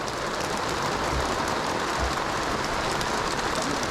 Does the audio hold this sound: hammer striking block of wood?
no